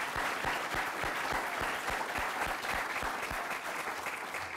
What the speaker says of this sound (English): Give him a round of applause for Niagara College.